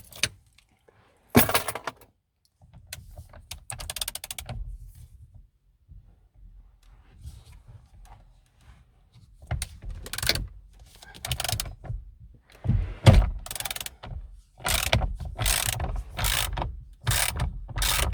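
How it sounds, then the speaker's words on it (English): A number 21 spanner loosens the steering wheel bolt on a 2013 Kia Cee'd, with repeated ratcheting clicks and metallic rattles in bursts, close by, separated by pauses and some low handling noise. "And remove the bolt on the steering wheel."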